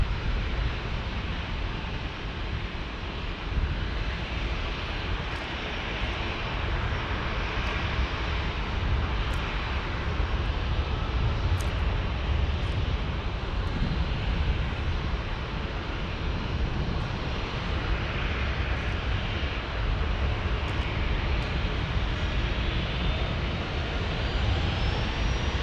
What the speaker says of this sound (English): Challenger next to take off.